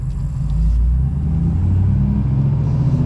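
A 2023–2025 Ford 6.7 Powerstroke diesel pickup on a high-power tune pulling away from a parked spot, a loud close low rumbling engine drone that holds steady for a few seconds with no talking.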